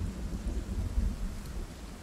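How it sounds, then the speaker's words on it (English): Rain and thunder ambience in the zombie survival game Project Zomboid (Build 41, modded): a low, steady rumble of distant thunder under a soft wash of rain, continuous and moderately quiet throughout. "this ambient noise here with the thunder, it's really creepy"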